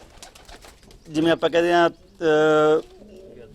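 White pigeons in Barnala give deep, throaty coos, two loud, rounded calls close by, while someone talks softly before and after them.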